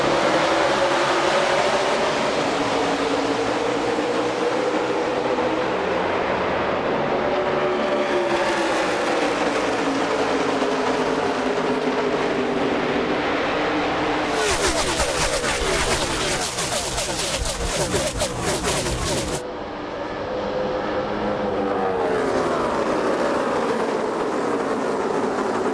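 Roaring field of NASCAR stock cars at Homestead, the final race of the 2016 season, surging away at the green flag; a dense, continuous engine drone with rising and falling sweeps as cars pass, swelling into a loud burst midway.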